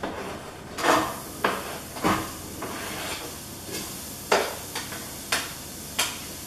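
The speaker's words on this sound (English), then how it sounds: "Did you hear them start to sizzle?" Sharp clatters and knocks of onions dropping into a hot pot, with a soft sizzling hiss building underneath between the louder hits.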